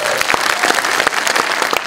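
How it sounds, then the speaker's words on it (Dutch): Loud, dense applause from a crowd at a film premiere in Amsterdam, continuous clapping filling the whole short stretch. "Ik wil graag een heel warm applaus voor Ang Doyee Sherpa"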